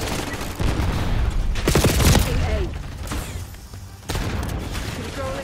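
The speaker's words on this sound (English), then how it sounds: "Random grenade." A grenade blast and gunfire in a first-person shooter video game: broadband bursts and a loud mid-clip boom with rattling shots, surrounded by dense game noise, with brief voice sounds.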